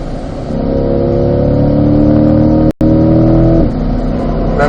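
Race car engine accelerating hard in fifth gear out of turn 2 on the Spring Mountain track, a loud steady drone with rising harmonics, a brief dropout near the middle and a gear-like shift toward the end.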